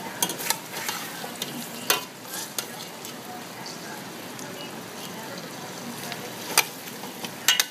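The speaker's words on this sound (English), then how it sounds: "So now I'm letting the onion cook a little bit." Onions frying in an okra stew pot sizzle steadily and softly, with occasional sharp scrapes and clinks as a utensil stirs against the pot, close and fairly quiet.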